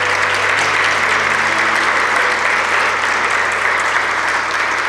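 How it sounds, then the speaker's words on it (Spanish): A church congregation applauds during a sermon, steady unbroken clapping filling the room at an even level for the whole stretch, with a low hum beneath. "a quien nosotros aplaudimos en esta hora"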